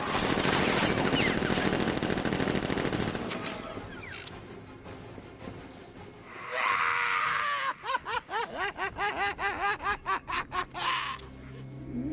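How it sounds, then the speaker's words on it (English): Batman: Arkham Knight video game with a militia opening fire: dense, loud gunfire fills the opening seconds, then trails off into a series of regular rhythmic bursts near the end. "Open fire! Shoot everything!"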